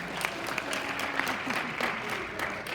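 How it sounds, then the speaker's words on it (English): An audience claps for advisors at a character training presentation, a brisk, even applause of many hands with a few sharper claps standing out near the listener. "let's give your advisors an applause"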